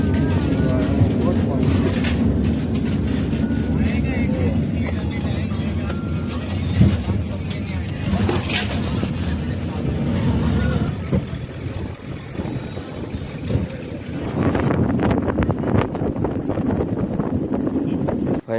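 Riding aboard a moving tractor on a farm: a steady, loud low engine rumble with wind buffeting the microphone throughout, and voices talking over it.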